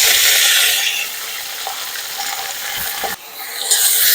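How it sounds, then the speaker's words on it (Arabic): Short-grain rice being stirred in hot fat or ghee in a pan, a steady hiss of frying with scraping, rattling stir strokes close up, briefly dipping before resuming. "ونقلبه مع الدهن أو مع السمن"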